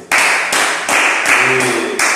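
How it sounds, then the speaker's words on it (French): An audience claps in several bursts, steady hand claps broken by brief pauses, with a faint voice underneath. "Applaudissez pour vous"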